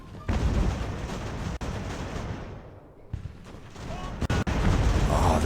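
Artillery fires in the naval-era battle game Ultimate Admiral: Age of Sail, a rolling barrage of heavy booms and crackling volleys. It is loud and nearly continuous, with a brief lull midway.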